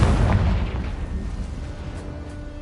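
The Confringo fire spell in Hogwarts Legacy goes off as a deep, loud blast, a heavy booming rumble that hits at once and slowly fades over a couple of seconds, with no voices.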